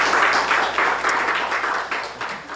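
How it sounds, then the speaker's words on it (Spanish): A church congregation claps together in a burst of applause, a steady, moderately close patter of many hands filling the room for a couple of seconds. "Un aplauso al Señor"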